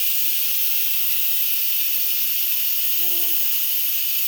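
Steam blasts from the release valve of a pressure cooker while shredded chicken cooks, a loud, constant high hiss that runs unbroken throughout, with a brief faint tone near the end.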